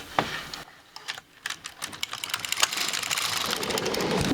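An LK150 knitting machine carriage knitting a single row of a sock, a close run of rapid mechanical clicks and clacks that builds into a continuous rattling whir as the carriage slides across.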